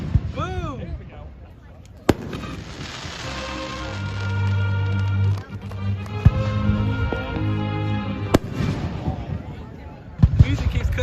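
Fireworks explode during a large backyard display, sharp loud bangs standing out from a crackling, whistling sky with music and voices underneath.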